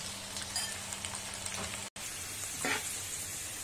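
Potatoes for honey chilli potato deep frying in hot oil, giving a steady, dense sizzle that carries on throughout with no one talking.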